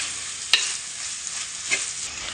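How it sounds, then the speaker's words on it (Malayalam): Onions sizzle steadily in a pan for a crab roast, with two brief spoon scrapes and clinks as they are stirred to keep them from sticking, close and alone without talk. "നല്ലതായിട്ട് ഇങ്ങനെ ഇടയ്ക്കിടയ്ക്ക് അടി പിടിക്കാതെ ഇളക്കി കൊടുക്കുക."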